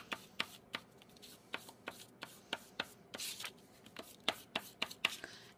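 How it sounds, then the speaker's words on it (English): Chalk being rubbed and colored onto paper for a craft project, heard as a series of short, crisp scratchy strokes in an irregular rhythm, close and fairly quiet, with no talking. "I don't rip as I'm coloring with my chalk"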